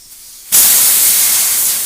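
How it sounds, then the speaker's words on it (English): Compressed air bursts out of a tire once the valve stem core is pulled, a sudden loud, close, steady hiss that starts abruptly and keeps going with only slight fading. "pull your valve stem out and release the air pressure"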